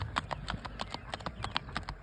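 Hooves of a gaited saddle horse, a 15-hand gelding, clip-clop in a quick, even four-beat rhythm, close and clear with no talking.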